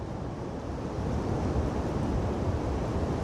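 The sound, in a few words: strong wind gusting over 75 km/h at canal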